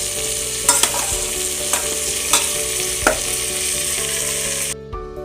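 Meat fries in a pan and is stirred, giving a constant loud hiss with a few scraping clicks of a utensil against the pan, close by. A low steady hum runs underneath and the sound drops off abruptly at the end.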